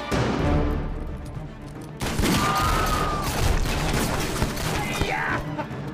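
Several guns fire in a film chase scene, a dense, loud volley of overlapping shots that breaks off briefly and then resumes in continuous rattling bursts.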